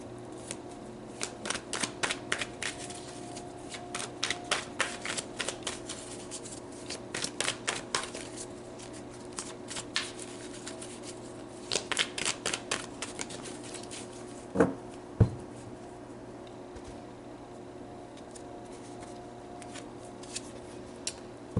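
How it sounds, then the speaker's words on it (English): Tarot cards are shuffled close by in several quick bursts of riffling and flicking, separated by brief pauses and followed by a couple of sharp taps near the end; no one speaks. "So let's pull some tarot."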